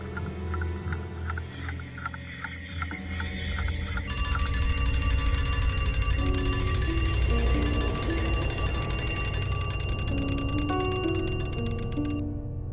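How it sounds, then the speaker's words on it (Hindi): An alarm clock rings at night with a bright, rapid metallic bell trill, loud and sustained over dramatic background music, no talking. "मैंने तो अलार्म लगाया ही नहीं था, फिर ये घड़ी कैसे बजी?"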